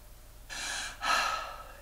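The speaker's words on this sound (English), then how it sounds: "Do a big belly breath again." A deep belly breath, a half-second airy inhale followed by a slightly louder, longer breathy exhale, close and clear against a quiet background.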